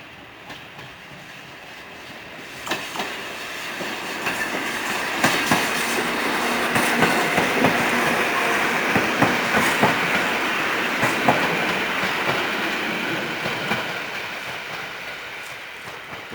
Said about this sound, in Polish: a na nim pociąg do Wrocławia.